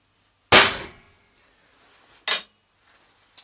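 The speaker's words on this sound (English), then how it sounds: "we're going to put a center dot in the steel" A hammer strikes a center punch into steel flat bar, giving one loud sharp metallic clang followed by two lighter taps spaced apart, each ringing briefly in a quiet space.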